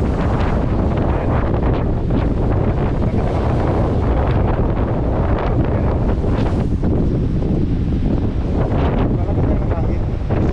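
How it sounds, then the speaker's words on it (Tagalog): Strong tropical storm wind from Hurricane Erin on Bermuda roars steadily into the microphone as a constant loud rush, with faint speech buried beneath it. "Malakas lang ng hangin."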